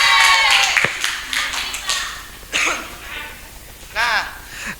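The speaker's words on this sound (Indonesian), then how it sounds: "tepuk tangan dulu untuk Ridwan" A classroom of students claps for a classmate, a burst of hand claps that fades, followed by a few scattered claps and brief voices and shuffling noises.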